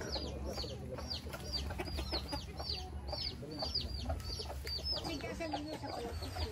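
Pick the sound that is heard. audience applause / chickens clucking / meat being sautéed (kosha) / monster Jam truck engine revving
chickens clucking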